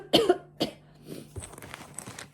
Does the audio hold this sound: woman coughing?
yes